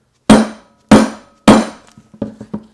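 Three loud, sharp hammer strikes ring out at even intervals while motorcycle steering bearings are driven in, followed by several lighter, quicker taps, all close and with no talking.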